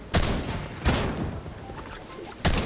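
Gunfire in a shooter video game: three sharp, loud shots spaced across a couple of seconds over a busy game background.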